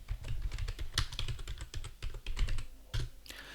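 Typing on a computer keyboard, quick irregular key clicks and taps in uneven bursts with a couple of heavier strokes, close and fairly quiet, no voices.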